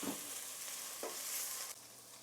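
Minced garlic sautés with tender vegetables in a pot, making a faint, quiet sizzle punctuated by three soft stirring scrapes about a second apart, with no voices.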